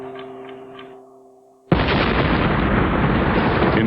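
An incendiary device detonates with a sudden loud blast after a quiet stretch, then a sustained roaring, crackling burst of fire and debris fills the rest of the moment.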